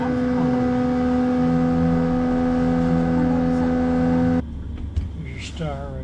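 A steady submarine pump drone shifting ballast water hums with strong tonal whine, then cuts out, leaving quieter background noise and a few faint squeaks.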